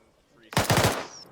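Rapid automatic machine-gun fire in the Arma 3 military shooter, a short close burst of about five loud shots in quick succession that follows a quiet lead-in.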